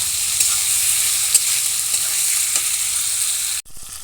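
Tomato frying in a pan with prawns and potatoes, a continuous loud hiss of oil and light stirring that cuts off abruptly near the end.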